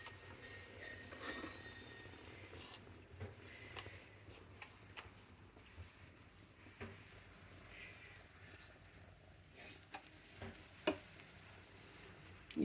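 Corn roti cooking on a hot pan, a faint, steady crackling sizzle with scattered scraping and light clinks of turning, close and quiet with no voices.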